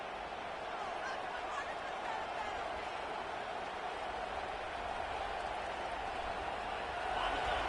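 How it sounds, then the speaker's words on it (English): A roaring stadium crowd at a college football game, Texas A&M at South Carolina, cheering to disrupt the defense: a dense, continuous, loud wash of noise with no breaks, under a voice. "Listen to this crowd just shaking the girders of this place, trying to help their defense."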